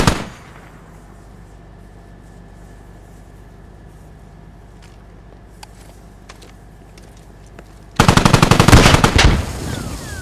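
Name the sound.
LAV armored vehicle firing and gunfire in the video game Squad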